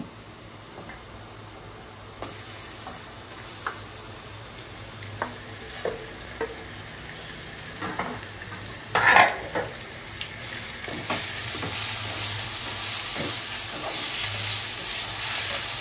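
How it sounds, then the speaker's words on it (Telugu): Chicken pieces frying with well-browned onions in a pan for chicken curry, a steady sizzle with occasional spoon stirs and scrapes, swelling into a louder, brighter hiss toward the end. "ఆనియన్స్ బాగా బ్రౌన్ కలర్ వచ్చే వరకు ఫ్రై చేసుకోవాలండి"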